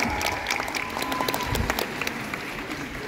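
Continuous applause from a Japan Expo 2024 cosplay show audience for an Angel Dust cosplayer, dense clapping with some crowd noise, strongest at first then settling over three seconds.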